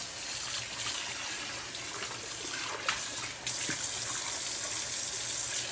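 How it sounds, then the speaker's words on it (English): Pottery dish scrubbed with soap under a running tap, a steady hiss of flowing water with faint rubbing and a few soft knocks as the dish is handled, no voices. "I'm going to go back over it with soap, go around the edges, get underneath, make sure the outside is clean."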